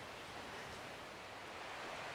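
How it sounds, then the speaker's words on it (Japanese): A waterfall roars nearby as a steady, broadband rush of falling water, soft and continuous with no voices. "近くに滝の音が聞こえる。"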